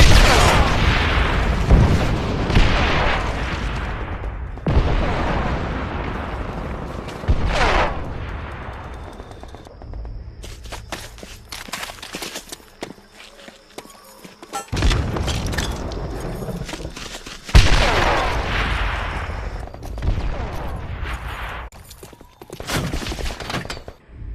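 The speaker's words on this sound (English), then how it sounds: "Our artillery will break their will!" Booming artillery fire in a football video game, repeated heavy blasts and crackling volleys rolling over a dense, loud game soundtrack with no clear speech.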